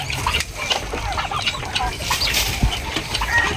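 Month-old turkey poults, hybrid and broad-breasted birds, chirp and cluck close by in a pen, a busy overlapping chatter of small calls over a low rumbling background, with no talk.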